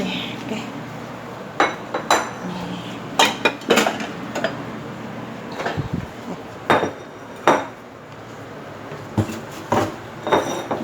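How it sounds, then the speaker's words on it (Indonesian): Two bowls set out in a kitchen, a run of sharp clinks and knocks of crockery and utensils at irregular intervals, close and fairly loud, with some talking between them. "Nanti aku siapin 2 mangkok"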